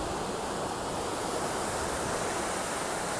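The Colima river in Colima, Mexico, swollen after a heavy storm, roars in a loud, steady, unbroken rush of churning water close at hand, with no voices.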